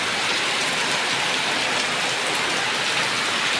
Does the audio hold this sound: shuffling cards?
no